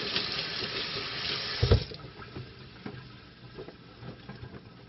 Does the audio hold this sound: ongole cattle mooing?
no